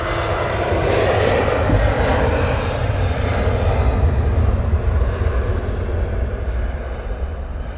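An airliner departs from runway 25 at Luton Airport, its engine roar loud and broad throughout, holding steady, then slowly thinning as it climbs away.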